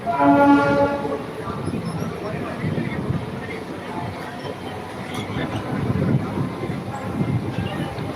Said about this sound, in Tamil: பாருங்க, அரக்கோணம் சப்பர்பன் ட்ரெயின் தான் இது.